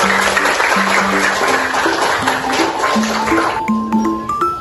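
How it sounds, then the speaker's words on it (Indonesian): Steady, dense clapping from a class of students fills the clip, continuous throughout with a few tonal chimes layered over it. "Oke, tepuk tangan buat kita semua."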